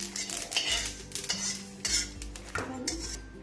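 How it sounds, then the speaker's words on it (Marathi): Sesame seeds dry-roast in a pan without oil while a spatula stirs them, giving quiet scraping and metallic clinks against the pan at irregular intervals over a low steady hum. "आता आपण तीळ भाजून घेऊया।"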